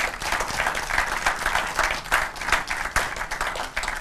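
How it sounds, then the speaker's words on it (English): Studio audience of university students at a live televised show applauding, a dense, even wash of many hands clapping at once without a break. "Please, a round of applause for yourselves."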